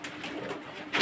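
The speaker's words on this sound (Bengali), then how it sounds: "তা যেটা আমি এখন কবুতরটা ছেড়ে দেবো" Domestic pigeons kept in a home loft give a short, close coo that swells at the end.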